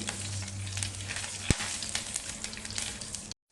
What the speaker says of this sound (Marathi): जिरं जिरं मोहरी चांगले फुटले